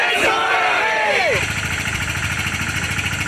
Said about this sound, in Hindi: मैं बिना माइक से एक बार नारा लगाना चाहूंगा, जय जोहर का नारा है